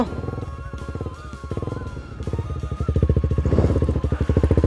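A KTM Duke 390 motorcycle ridden slowly in first gear with throttle applied, a close, steady, throbbing engine pulse that grows louder and more insistent toward the end.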